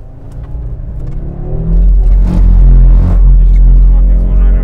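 An Audi RS3 on a track, its engine rumbling low and swelling louder as it accelerates through a right-left bend, a steady near drone with a person talking over it throughout.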